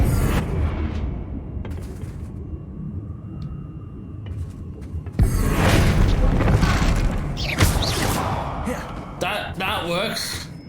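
A Confringo spell explodes in the Hogwarts Legacy video game, a sudden loud boom that breaks in midway and leaves a dense rumbling, crackling wash, with more bursts after it and game effects and clatter all around.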